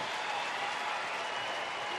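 Crowd noise at a baseball stadium, fans at a Cleveland at Texas game cheering and clapping to urge on the pitcher, a dense sustained roar heard at a distance.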